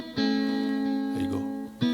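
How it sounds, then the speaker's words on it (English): Fender Stratocaster electric guitar plays a sustained, ringing chord through an amp, with a short melodic figure in the middle and a fresh strum near the end, loud and close with no talking. "The Strat sounds like this."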